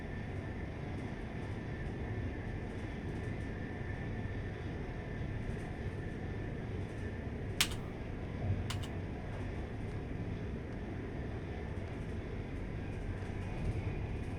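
A train rolls along with a steady, low mechanical rumble and hum in the railway simulator game Train Life, broken by two sharp brief clicks, with no one speaking.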